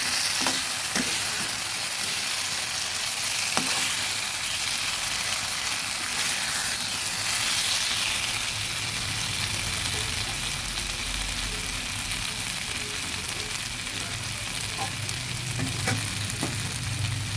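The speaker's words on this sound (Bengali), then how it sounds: "ভেজে নিয়েছি আর বেশি ভাজবো না" Spiny gourd (kakrol) pieces frying in a pan, a loud, even sizzle running throughout with occasional light stirring clicks and scrapes close by.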